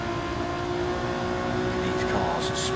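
Race cars in an Alfa Romeo 155 league round at Goodwood circuit, with a steady engine drone held throughout under a commentator's talk, a brief change near the end.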